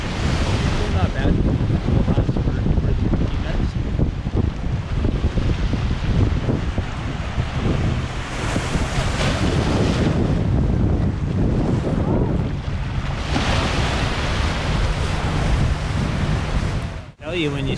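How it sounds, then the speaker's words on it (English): Steady roar of ocean surf at Playa Blanca near Cartagena, Colombia, with waves washing in continuously, heavy wind buffeting the microphone throughout, no voices. "When you see how far the waves are going in"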